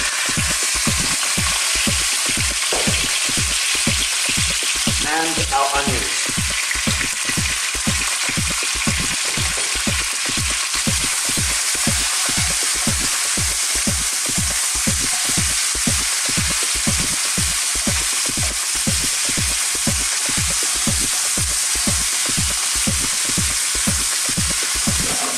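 Beef fries in a curry pan with a continuous, even sizzle and a rapid regular pulsing rhythm throughout, moderately loud and with no talking.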